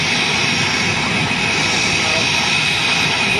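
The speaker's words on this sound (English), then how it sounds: "The jet is now powering forward." A Citation business jet's engines roar steadily and loudly as the aircraft powers forward after running off a short runway into a bay, a continuous dense whine and rumble heard alone throughout.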